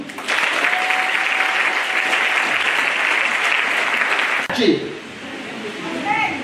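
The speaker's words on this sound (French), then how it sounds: "Acclame Jésus." Church congregation bursting into loud, sustained applause acclaiming Jesus, a dense wall of clapping for about four seconds, with voices calling out as it fades.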